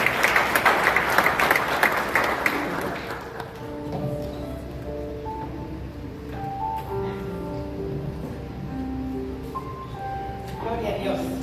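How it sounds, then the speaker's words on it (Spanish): Church congregation giving a round of applause, a burst of loud clapping at the start fading as organ or keyboard chords take over beneath a voice. "Un aplauso al Señor."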